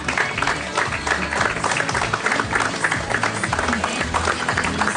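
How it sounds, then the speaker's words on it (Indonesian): A studio audience claps on and on without letup, a loud continuous wash of applause with scattered cheers and crowd noise, while a voice talks faintly underneath. "Tepuk tangannya nggak berhenti-berhenti"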